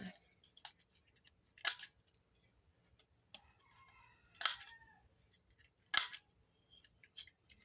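Scissors trimming a sheet of paper for a craft project: a few short, crisp snips spaced out over several seconds, close and fairly quiet against a faint background, with no talking.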